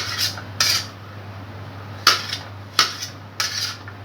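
A knife cuts a mango into pieces for Bengali mango dal, with five short scraping strokes against a board at uneven intervals over a low steady hum, close and clear with no voices.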